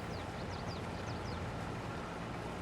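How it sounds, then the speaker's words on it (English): A loaded truck drives off in a farming video game, a steady broadband engine and rolling drone filling the scene, with faint chirps above and no talking. "And off goes the truck."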